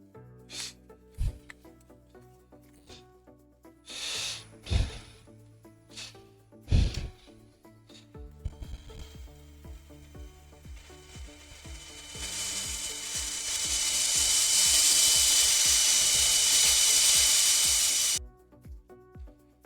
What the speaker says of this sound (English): we're just going to quickly sand that up